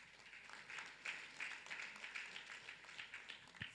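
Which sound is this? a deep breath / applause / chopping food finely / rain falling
applause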